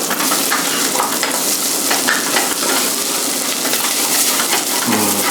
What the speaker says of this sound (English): You want to scrape that fond at the bottom so it doesn't like burn.